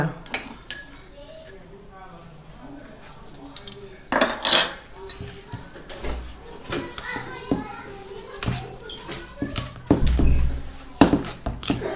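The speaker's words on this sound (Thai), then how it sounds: "เราก็จะมาคลุกเคล้าให้เข้ากัน" Metal utensils clink and scrape against a bowl while quail egg snack ingredients are mixed, bursts of clatter scattered through the scene, with a voice talking and children chattering in the background.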